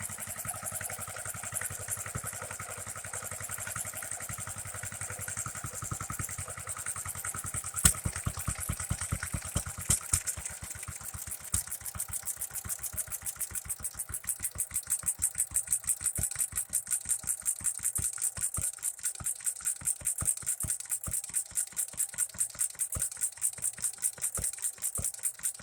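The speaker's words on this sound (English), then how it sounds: "So let's idle it down a little bit. We'll see how low we can get it to run." Standard Monarch tractor engine idling down, a steady low putt with a rapid, even firing rhythm that slows and grows more distinct partway through, close and continuous with no talk.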